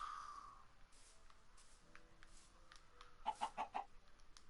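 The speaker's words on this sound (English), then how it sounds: "I hear a chicken" A chicken in Minecraft clucks in a short burst of four quick, evenly spaced notes near the end, faint and somewhat distant over a quiet jungle ambience with a few soft scattered sounds before it.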